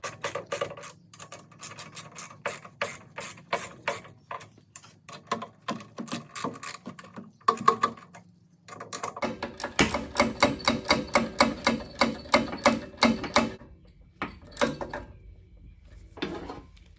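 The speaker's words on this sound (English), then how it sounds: "Take the ratchet. Go ahead and start cranking them down." A ratchet cranks down bolts on a power sprayer pump, giving rapid runs of close, crisp clicking in quick bursts, with a faster, louder stretch of ratcheting in the middle and short pauses between strokes.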